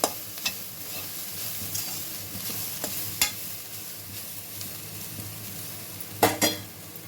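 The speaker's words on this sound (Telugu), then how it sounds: "క్యారెట్ సిమ్లో పెట్టి స్టవ్ బాగా వాసన పోయే వరకు వేయించుకోవాలి" Carrot rice frying in a pan on a stove, a soft continuous sizzle with repeated spatula scrapes and metal clinks against the pan, close and fairly quiet with no talk.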